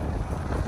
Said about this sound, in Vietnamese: Ui gió đến mát quá.